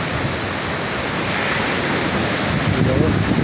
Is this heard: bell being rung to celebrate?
no